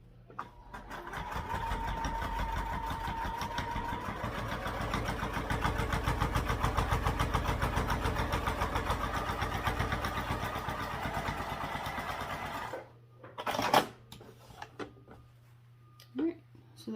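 Sewing machine top stitching a wallet, running as a fast steady rhythmic whir of needle strokes for about twelve seconds before stopping, followed by brief handling clatter.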